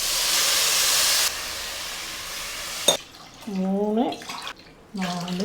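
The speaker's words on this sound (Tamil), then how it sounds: "இப்போ நான் வந்து 2 டம்ளருக்கு 6 டம்ளர் தண்ணி சேர்த்துக்கிறேன்." Water is poured from a tumbler into rice in a cooking pot for sweet pongal, a steady rushing splash lasting about a second, then quiet followed by a voice speaking.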